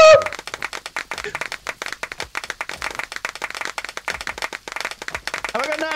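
Hands clapping in a crowd at the close of a game developer's community Q&A after a Mortal Online Twitch stream, steady repeated claps filling the whole stretch with scattered voices and cheers mixed in.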